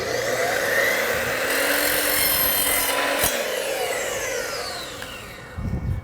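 Copper pipe being cut by a power saw on a deck-building job, a steady loud grinding rasp holding for about five seconds, then easing off, with a short sharp knock near the middle.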